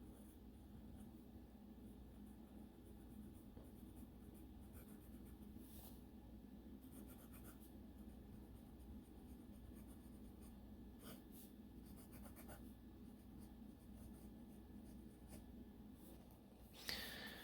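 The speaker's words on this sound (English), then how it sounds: "let's do a writing sample of this Leonardo pen" A Leonardo Momento Magico fountain pen with a fine nib writes on paper, giving soft, close scratchy strokes that run steadily and faintly for the whole stretch with no talking.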